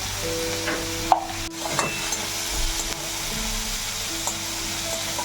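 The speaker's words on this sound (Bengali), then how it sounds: "পেঁয়াজগুলো আমি একটু লালচে রং ধরিয়ে ভেজে নেব" Salted onions fry in oil until reddish, with a soft, constant sizzle close by, broken by a few light knocks of a spoon against the pan.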